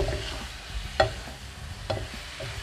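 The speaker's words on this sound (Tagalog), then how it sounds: "So haluin lang natin siya ng haluin." Adobong puti being stirred in a pan as the broth cooks down into its own oil, with two distinct scraping clacks of the utensil over a low, steady sizzle.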